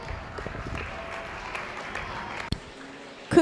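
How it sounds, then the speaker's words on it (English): Applause from a crowd at a beef cattle show, moderate and steady, with scattered claps and background murmur. "give these exhibitors a nice round of applause"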